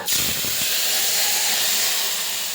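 Tomato-tamarind water poured into a hot tempering gives a sudden loud steamy sizzle that keeps hissing steadily for a couple of seconds.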